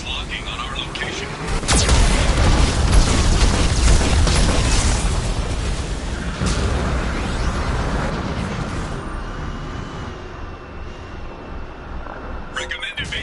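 Geth cannon fire in Mass Effect 2 rumbles as loud booming explosions with a sharp blast, then a long fading roar, under a synthetic warning voice.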